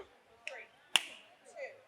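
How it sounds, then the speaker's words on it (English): Sharp, single hand claps stand in for a number in an improv counting game, with a few crisp strikes separated by brief pauses and voices speaking between them. "Replace the 1 with a clap"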